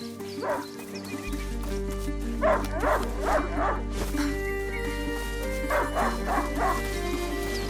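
A hunting dog in a browser video game barks in quick bursts of several yips, twice over, with a steady low hum of game music or ambience running beneath.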